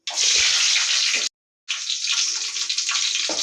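Mustard seeds crackling and frying in hot oil in a pan, a loud, dense, steady hiss and sizzle that cuts out briefly and then resumes, with fine popping throughout.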